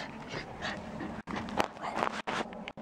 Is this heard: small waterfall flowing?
no